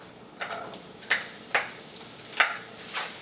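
Chopped onions go into a pan of frying garlic for a meatless meatloaf, with soft sizzling and several sharp scraping stirs of a utensil against the pan, close and fairly quiet.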